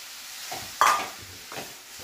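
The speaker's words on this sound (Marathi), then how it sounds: "आता आपण यामध्ये घालून घेणार आहे कोळंबी." Prawns drop into a hot frying pan and are stirred, bringing a sudden loud sizzle that fades into softer scraping stir strokes and quiet frying, with no talking.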